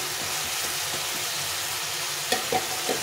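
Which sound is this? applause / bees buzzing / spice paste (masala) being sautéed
spice paste (masala) being sautéed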